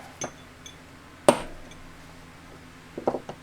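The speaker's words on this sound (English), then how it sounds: "Now we'll center punch." A center punch struck once with a hammer on a chainsaw part: a single sharp metallic strike rings out, followed by a faint ring, with a few softer clinks of metal before and after.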